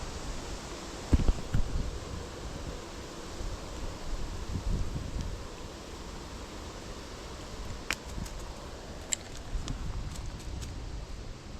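Steady outdoor wind noise at a fishing pond in summer with light rustling, mostly low and broadband, with a few brief clicks and ticks scattered through.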